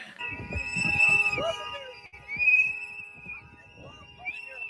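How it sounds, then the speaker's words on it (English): Whistles blow in long, shrill, sustained tones over a crowd of overlapping voices, rising and fading across a few seconds. "A lot of whistles"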